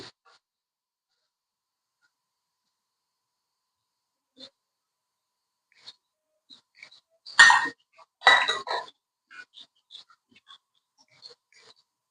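Capsicum, carrot and tomato being stirred in a pan for Maggi noodles: mostly quiet, with faint occasional utensil clinks and two louder scraping bursts close together.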